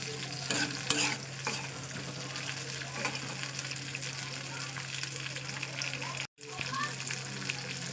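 Spices, ginger, garlic and onion frying in oil, a steady close sizzle with occasional stirring scrapes throughout, briefly cut by a sudden drop to silence near the end before resuming.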